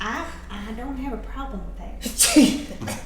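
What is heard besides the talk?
sneeze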